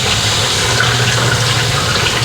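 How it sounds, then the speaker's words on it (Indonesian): Coconut milk is poured into a cooking pot of chicken and potatoes, a steady close liquid splashing and gushing rush with no break over its brief length. "Oke, ini kita masukkan santannya."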